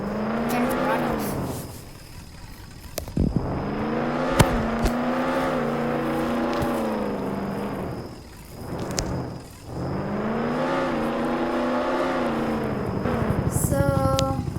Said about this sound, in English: you can just grab that Lamborghini that spawns all the time over there and run off